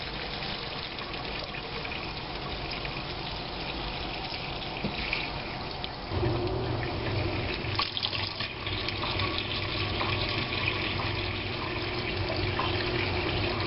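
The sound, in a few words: sink tap running lukewarm water to rinse yarn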